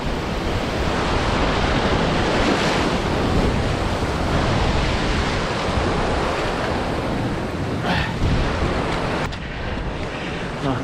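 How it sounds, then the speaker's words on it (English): Ocean waves break on rocks along a rugged shoreline, a loud continuous wash of surf churning with wind buffeting the microphone; the roar stays steady throughout, with no voices. "Gotta watch the waves here."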